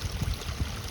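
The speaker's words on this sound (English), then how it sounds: "there's the creek right there, Buffalo Creek. Running right into it." Buffalo Creek runs past a yard drainage spot with a soft, steady watery rush and small gurgles. It is faint and continuous and has no voices over it.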